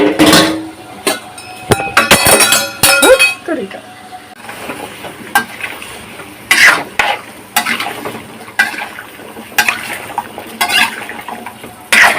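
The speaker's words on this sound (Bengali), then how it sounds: "বিসমিল্লাহ, পেঁপে সহ কষানো হবে" Papaya and green chillies stir-fried with spices in a pan, loud close sizzling with bursts of rapid spatula scraping and clanking against the pan, varying in intensity.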